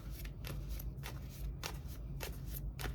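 Tarot deck shuffled by hand, a quick run of crisp riffling bursts with short pauses between them, close and fairly quiet.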